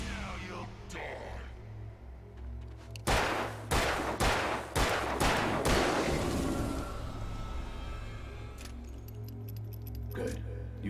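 Rapid burst of loud gunshots from a handgun in the video game Alan Wake, about five sharp cracks in quick succession over a low ambient drone, followed by a quieter lingering tail.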